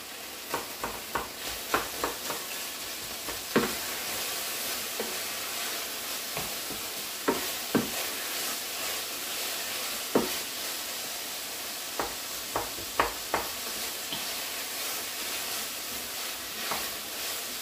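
Steak pieces browning in a pan for steak gravy give a steady close sizzle, broken by repeated sharp clicks and scrapes of stirring throughout, with no talking.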